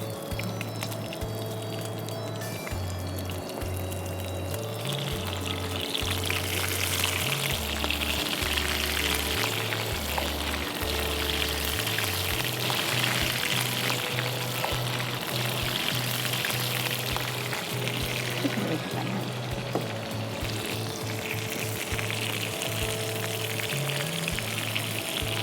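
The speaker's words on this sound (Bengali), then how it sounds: "তেলটা গরম হয়ে এলে আমরা একটা একটা করে মাছ দিয়ে দেব।" Prawns marinated in turmeric fry lightly in hot oil for a prawn malai curry, a steady broadband sizzle lasting throughout under a low mains hum, with bursts of spatter and some stirring.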